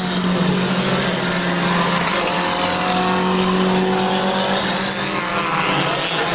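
Race cars lapping at Midvale Speedway, a steady loud engine roar sustained throughout with layered whine of several cars circling the track and a faint tire squeal.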